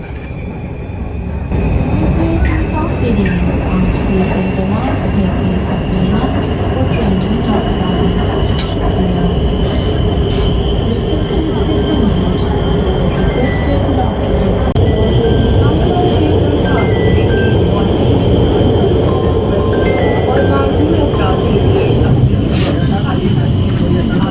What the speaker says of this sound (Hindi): अभी जो है हम ट्रेन पे मेट्रो पे सवार हो रहे हैं